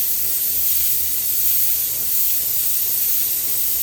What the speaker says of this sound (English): It doesn't look like it as you're spraying it on as candy